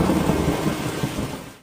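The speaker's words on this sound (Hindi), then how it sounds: "कुछ दिनों से गांव में मूसलाधार बारिश हो रही थी" Torrential rain pours down over a village at harvest time, a dense, steady roar with low rumbling that suggests thunder, loud and unbroken until it cuts off abruptly.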